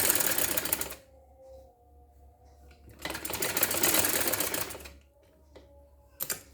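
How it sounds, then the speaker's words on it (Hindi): A sewing machine stitches a round seam on a girl's trouser in two rapid runs of about two seconds each, with a quiet pause between and a brief final burst. "ये पूरी यहाँ से राउंड में सिलाई करें"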